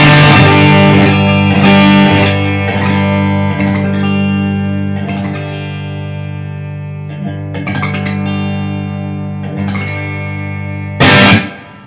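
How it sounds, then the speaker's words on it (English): An electric guitar played through a tube amp, driven into power-tube distortion, rings out sustained, heavily overdriven chords struck several times, ending with a sharp loud attack. "if you pick hardly, you'll hear a lot of distortion"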